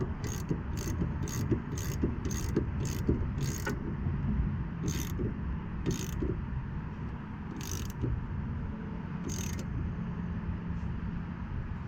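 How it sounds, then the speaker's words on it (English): A ratchet with a 9/16 inch socket tightens a bolt on a Jeep XJ suspension install, giving quick runs of sharp clicks in regular bursts, close and moderately loud, with pauses between strokes. "get yourself a 9/16 inch socket and just tighten it down"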